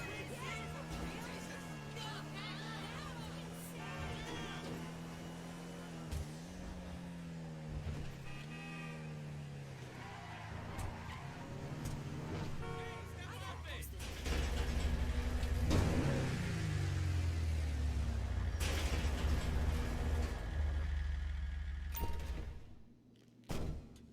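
Off-road truck driving in GTA 5, a low engine hum rising and falling with throttle changes, then a heavier rumble as it speeds up, with someone talking over it throughout.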